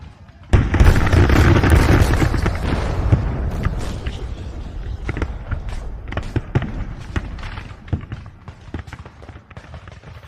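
Dense rolling battle din of Civil War artillery at Cold Harbor, with a sudden loud onset of booming explosions and crackling blasts that continue in a sustained, gradually thinning barrage.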